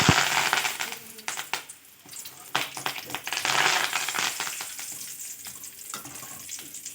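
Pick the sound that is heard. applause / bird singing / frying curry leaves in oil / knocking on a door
frying curry leaves in oil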